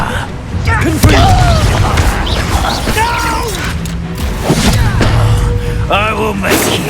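Confringo blasting spells going off in a Hogwarts Legacy fight, with several booming explosive hits and crashes among chaotic combat effects and music, while a character speaks over the action.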